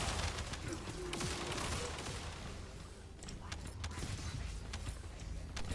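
An engineering turret firing in The First Descendant, with fast repeated shots and clattering bursts layered over dense game noise, steady and moderately loud throughout.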